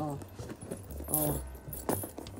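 A set of keys jingles as it is dropped into a bag, with several short metallic rattles spread across the moment and a person talking nearby.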